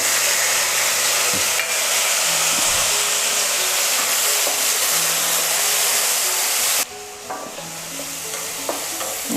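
Tomatoes and chillies frying in a pan, a loud steady sizzle and hiss with occasional stirring clinks, quieting sharply near the end as the heat drops or the pan is moved.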